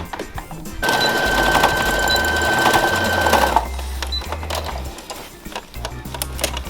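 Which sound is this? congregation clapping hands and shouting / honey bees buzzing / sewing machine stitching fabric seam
sewing machine stitching fabric seam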